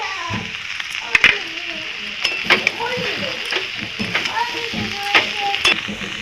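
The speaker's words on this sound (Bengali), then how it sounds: "সবজিটা নুন হলুদ দিয়ে ভাজা হয়েই এসেছে প্রায়।" Mixed vegetables with peas, salt and turmeric frying in a pan, giving a steady sizzle broken by sharp clinks and scrapes of a spoon stirring against the metal while someone talks over it.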